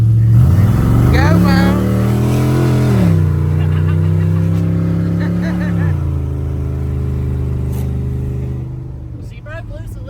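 LS-engined Crown Vic drifting a curve at Tour of Destruction revs hard and close, its engine pitch climbing, dipping and climbing again, with a brief shout from a voice near the end.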